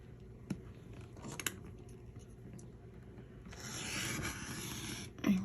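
Fabric seam allowance being trimmed during foundation paper piecing, faint close snips and rubbing followed by a longer rasping cut, quiet and alone.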